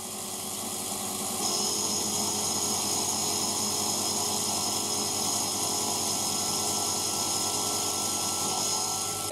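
MAXNC mini mill cutting metal at 5,500 RPM: a continuous high-pitched spindle whine with a grinding buzz that steps up in loudness early on, then holds steady for the rest of the cut.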